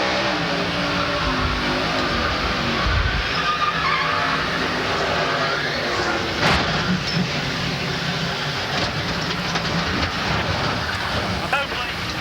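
On-board camera audio from a NASCAR stock car running in a crash with Bill Elliott's car, a loud continuous roar of engine and wind with tire skidding, heard close throughout with broadcast commentary over it.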